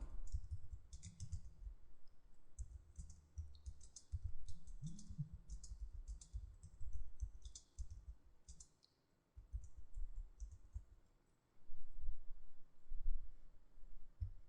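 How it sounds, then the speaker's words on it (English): Quick bursts of fingers tapping a computer keyboard, with irregular runs of light clicks separated by short pauses, close and quiet. "So I'll begin typing that."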